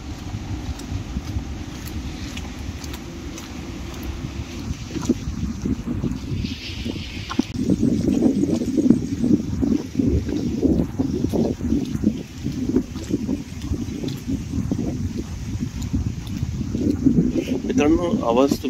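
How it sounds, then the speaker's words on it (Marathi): Lake water laps steadily at the shore of Vadale Lake in Panvel while wind buffets the microphone, a continuous near, low rumble that thickens and grows louder midway through. "पाण्याचा छान लाटांसारखा आवाज येतोय बघा."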